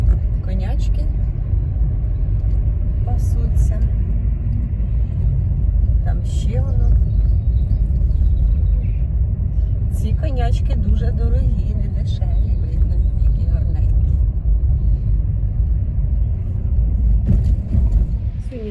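A car drives along a road on the way home after a day in the narcissus meadows, its steady low rumble continuous and close throughout, with faint intermittent rattles and brief sounds over the engine drone.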